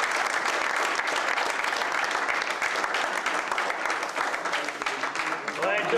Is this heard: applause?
yes